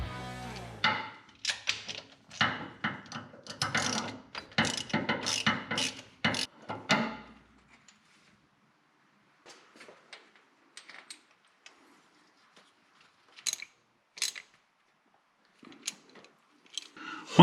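A ratchet tightens intake manifold bolts during a carburetor install, producing a quick burst of dense clicking strokes up close, then a quieter stretch with only sparse, isolated clicks and knocks.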